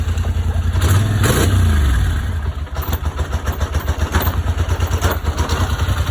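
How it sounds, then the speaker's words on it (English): A 2019 Highlifter 850 ATV with a starter problem, just after water was cleared from its airbox, revs loudly and close by, the engine surging in rough bursts over a throbbing idle without settling smoothly. "I'm gonna give her a few revs and see if any more water come out of here."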